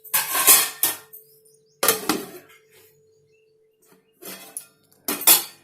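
Metal lid clanks and clinks against a cooking pot of capsicum curry with yogurt, several short bright knocks in uneven bursts separated by quiet gaps, close and clear.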